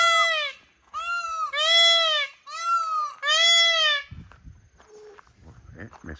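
A person imitates a turkey with four drawn-out, warbling, high-pitched calls in quick succession. The calls are followed by quieter scattered rustling and movement.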